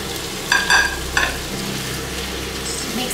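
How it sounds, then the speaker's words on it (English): Tempeh stirred into vegetables frying in a pan for a vegan coconut-sauce dish, a steady low sizzle with a couple of scraping spoon strokes early on, close and alone. "Now I'm going to add in the tempeh."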